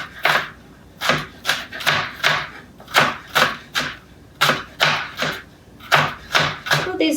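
A knife cuts through food on a cutting board in a run of about fifteen crisp, evenly spaced chops in loose pairs, close and clear, while prepping ingredients for southwest stuffed burgers.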